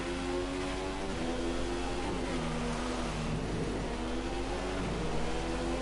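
An F1 car's engine at Monza in a racing video game, heard onboard Hulkenberg's car on dry tyres, a loud steady whine that climbs and drops through gear changes with a rumbling low undertone.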